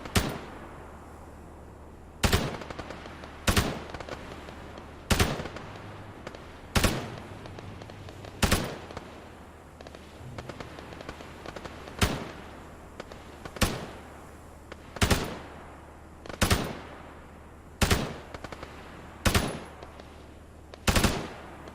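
Bursts of automatic gunfire in Arma 3 crack out loud and sharp about every second or two, each volley a short rattling cluster over a low steady engine-like drone, with no talk.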